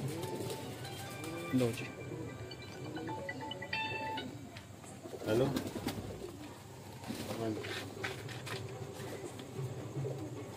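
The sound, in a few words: pigeons cooing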